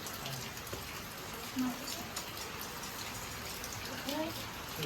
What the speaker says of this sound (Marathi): थोडंसं पाऊस पण चालू आहे